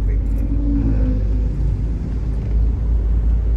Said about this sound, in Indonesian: dengan kecepatan 20 kita bisa mengurangin ke gigi 2 seperti ini